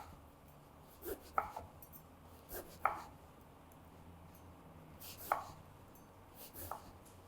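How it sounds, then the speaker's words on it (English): A kitchen knife cuts an eggplant into half-inch-thick planks on a cutting board, a few separate close chopping thuds spaced about a second or more apart over quiet room noise. "we'll cut it into about 1/2 inch thick planks"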